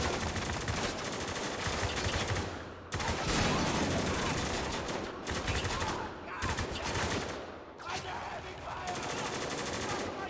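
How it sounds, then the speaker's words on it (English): Dense, sustained automatic gunfire and overlapping shots fill a combat scene in the video game Spec Ops: The Line, loud and continuous with brief lulls between bursts. "Oh, okay, that guy is shooting that."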